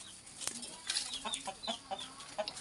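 Several chickens cluck in short, repeated calls close by beside a kantari chilli plant, a steady scattering of soft notes with no talking.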